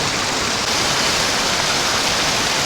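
A waterfall in the Karmadon Gorge, North Ossetia, roars as a steady, loud broadband rush of falling water, with no voices over it.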